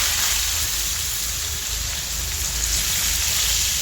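Onion fries in a pan with cumin, giving a loud, dense, continuous sizzle like steady rain that holds level from start to finish with no talking.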